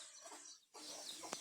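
A village rooster clucks faintly in a couple of short bursts, with a soft rustle and a brief sharp note near the end, quiet and somewhat distant.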